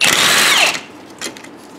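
A power tool, likely an impact gun, spins off 13 mm bolts from the ABS assembly bracket on a C6 Corvette, running in one loud, steady burst before cutting off, then giving a short second blip.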